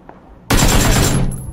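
Automatic weapon fire in PlayerUnknown's Battlegrounds erupts suddenly after a quiet moment, a loud, dense burst of rapid shots lasting about a second before tailing off.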